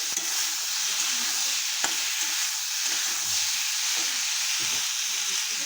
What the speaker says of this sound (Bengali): কড়াইতে আমার তেল রয়েছে, শুকনো লঙ্কা আর কালো জিরে দিয়ে দিলাম সোমবারে মাছের জন্য, আর কাঁচা টমেটো